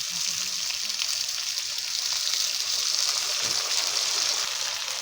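Water poured into a hot pan after rinsing out the bowl that held the poppy seed paste, giving a continuous loud hiss and sizzle with no talk.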